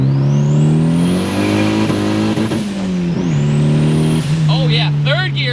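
Turbocharged 350 hp Honda Accord accelerating hard in third gear, its engine note climbing loudly with rising whine and turbo whistle, easing off near the end with chirps and flutter from the blow-off, heard from inside the car.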